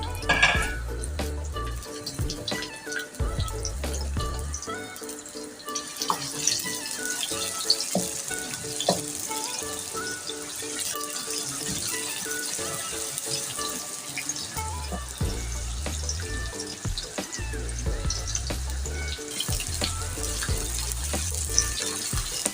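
Onions frying in hot oil for moong daal: a continuous near sizzle with stirring clatter and some bursts of spattering, no one talking.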